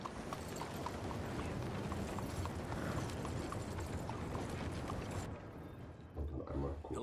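Horse hooves clip-clop in Red Dead Redemption 2, a steady near rhythm of hoofbeats over about five seconds with faint speech mixed in, then thinning into scattered rustling and shuffling.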